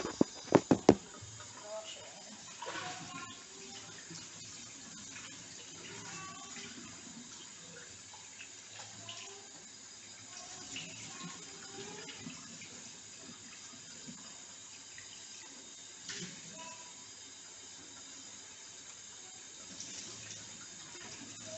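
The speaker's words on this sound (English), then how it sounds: "I'm going to wash the rice." Tap water runs steadily into a pot while rice is washed for a Jamaican Christmas dinner, a quiet continuous splashing stream with a few sharp clinks at the start and soft background voices.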